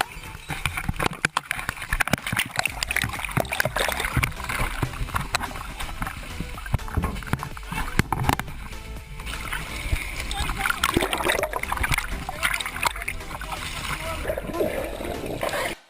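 Water splashing and sloshing as it pours into the cabin of a crashed plane, loud and close with constant churning, thuds and scraping of people scrambling, and shouting voices throughout.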